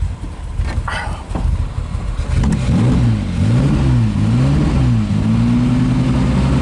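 A 1959 Aston Martin MKIII, not run for a couple of years, catches after some rough noise and settles into a loud, close, steady engine note that rises and falls in a few rhythmic swells of revving.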